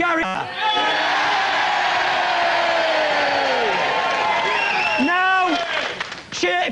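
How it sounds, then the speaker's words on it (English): Studio audience on a Christmas 2000 sports comedy panel show cheering loudly and continuously for one contestant, a dense crowd roar with shouts, swelling again near the end. "I want you to cheer if you thought Gary."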